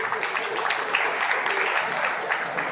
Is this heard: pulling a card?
no